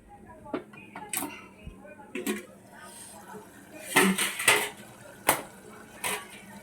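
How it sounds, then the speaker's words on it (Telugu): A lid set on a pot of mutton keema curry gives a few sharp metallic clanks and scrapes of cookware, close and fairly loud, spread over several seconds with quieter kitchen handling between. "మూత పెట్టేసుకొని మీడియం ఫ్లేమ్లో మూత పెట్టి మీడియం ఫ్లేమ్లో పెడదాం"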